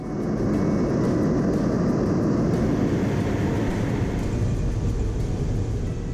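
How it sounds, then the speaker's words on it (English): A seaplane's engine drones steadily and loudly at close range, a constant broadband roar with no voices over it. "Here's our seaplane that we just got off of after that flight around the ice and the forests and the mountains"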